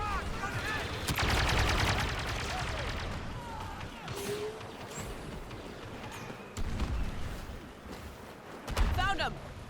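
Sustained blaster and gunfire from the Star Wars Battlefront campaign, a mix of rapid bursts and sharper single shots with occasional booms, loud and near, while voices talk over the battle.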